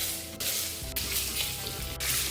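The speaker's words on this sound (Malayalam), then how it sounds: "നമുക്ക് മുട്ട ഒന്ന് ഫ്രൈ ചെയ്തിട്ടെടുക്കണം." Eggs frying in oil seasoned with turmeric and chilli powder for a restaurant-style egg masala give a steady, close sizzle with brief bursts of stirring and scraping, and no talking.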